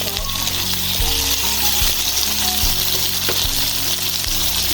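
Tomato going into a hot frying pan for a chicken dish, sizzling steadily while being stirred, with faint scraping clicks from the utensil throughout.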